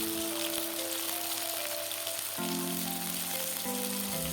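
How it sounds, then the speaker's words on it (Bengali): Onions and chopped tomatoes fry in a pan for a chickpea dal, giving a continuous hissing sizzle with no voices, joined by a steady background tone that shifts pitch partway through. "এদিকে পেঁয়াজটা অল্প লাল করে ভেজে নিতে হবে। তারপর পরিমাণ মতো কুচিয়ে রাখা টমেটো দিয়ে দিলাম।"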